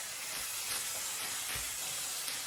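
Sausage and peppers steaming in a partially covered pan, a continuous soft hiss and sizzle with faint occasional pops, close and steady with no one talking.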